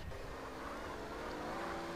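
A car engine drones steadily in the MTA DayZ video game, a faint, continuous motor hum while someone drives, with no voices over it.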